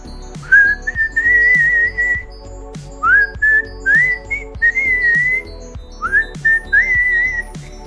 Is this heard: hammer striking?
no